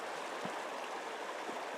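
The White River flows in a steady, soft rushing wash, a continuous stream sound with faint gurgles, heard alone at low level with no voices.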